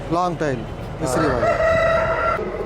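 A rooster at a poultry show crows loudly and close by, a long drawn-out call following a couple of shorter harsh cries.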